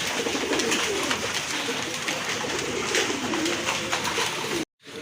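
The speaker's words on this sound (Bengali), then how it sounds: "চলেন কবুতরগুলো আপনাদেরকে দেখায়" Pigeons at a pigeon sale coo steadily and loudly, a dense overlapping chorus from many birds that stays close and continuous until a brief cutoff at the end.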